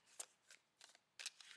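A cardstock tarot deck with a slightly cardboardy feel being shuffled: several short riffling bursts of papery flutter, close and fairly soft, separated by brief pauses, with no voices.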